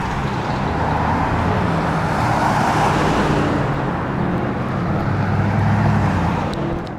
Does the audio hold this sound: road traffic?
yes